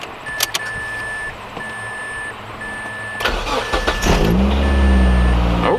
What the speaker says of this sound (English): Let's see if it'll start without the ECU power.